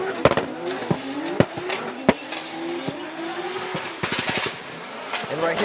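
Tandem drift run at a snowy Japanese drift event, two drift cars initiating together: engines rise and fall with rapid sharp rev bursts and tire noise, with clicking transients and a gear-like pitch sweep, loud and close, with commentary over it.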